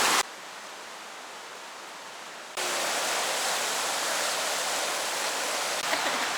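Steady broadband rush of a river close to its source in Manning Park, loud and continuous with no voices, swelling a little louder partway through.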